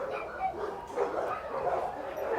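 A highly excited dog, worked up by another dog during puppy training, gives repeated yipping barks and whimpers at moderate distance, in an uneven stream of short bursts.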